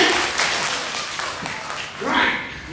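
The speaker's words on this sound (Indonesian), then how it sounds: "Sujud berikan tepuk tangan yang baik." Congregation clapping during a church service, a broad wash of applause that swells, dips in the middle and rises again near the end, with voices mixed in.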